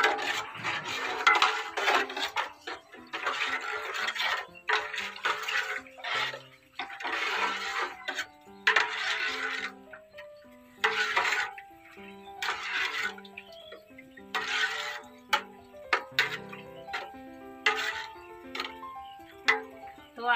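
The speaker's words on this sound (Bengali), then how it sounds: "দিয়ে জলটা গরম হতে হতে আমি একটু নেড়ে চেড়ে নেবো" A utensil stirs water with baking soda in a pot, heating up to clean a comb, producing repeated light metallic clinks and scrapes against the pot in an irregular rhythm.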